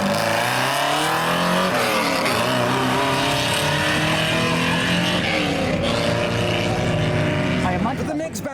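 A straight-piped Toyota Chaser with what is probably a Rover V8 revs hard and close, its loud rasping engine note climbing and falling through shifting pitch for several seconds before tapering at the end.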